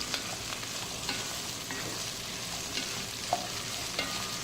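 Okra (bhindi) sautés in hot oil, giving a dense, continuous sizzle and crackle that stays steady throughout, with faint stirring touches and no voices.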